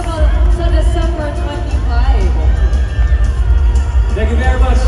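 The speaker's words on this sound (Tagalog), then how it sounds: "Palangpakan po natin sila" A large, loud crowd at a TV5 Christmas party cheers, whoops and claps for The Kingdom cast, with Vic Sotto and Piolo Pascual present. The roar is dense and sustained, with an amplified voice over it.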